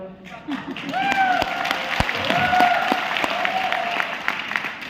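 Audience applause at a live talk, a steady wash of many hands clapping, fairly loud and sustained for several seconds, while a voice talks and some high whistle-like tones cut through.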